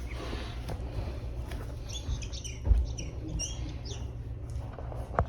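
A Potaroma cat toy bird gives faint, high chirps in short clusters over a low room rumble, with a soft thump partway through.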